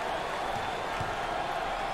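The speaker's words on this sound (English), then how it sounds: "This crowd is unbelievable tonight." Packed basketball arena crowd at a 2021 NCAA tournament game between Oregon and LSU, a continuous loud roar of cheering and applause.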